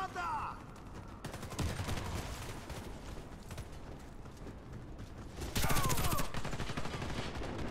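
Gunfire from an FN F2000 rifle in the shooter game Warface, with several bursts of shots and a heavier, louder volley near the end, set against busy game noise and a voice talking.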